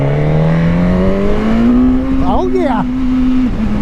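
A 2024 Suzuki GSX-S1000 motorcycle engine pulls hard and close, its loud, smooth tone climbing steadily in pitch through acceleration, while a rider briefly exclaims partway through.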